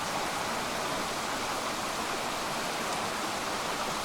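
Brook water runs through the rocks of Padley Gorge in the Peak District, a soft, steady rushing hiss heard alone, even and unbroken throughout.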